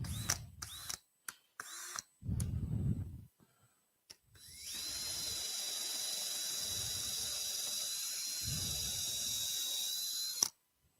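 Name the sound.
power drill drilling a clearance hole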